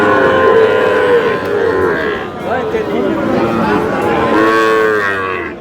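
A Sahiwal bull calf at Aftabganj cattle market in Dinajpur lets out a long, loud, close moo over the murmur of people talking nearby.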